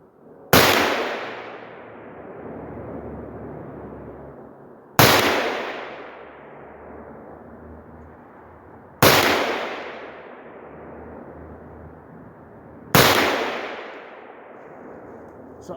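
Four loud, sharp rifle shots from a Sig MCX chambered in 300 Blackout, a piston-driven gun, fired outdoors at a 200-yard range, evenly spaced about four seconds apart, each followed by a long rolling echo.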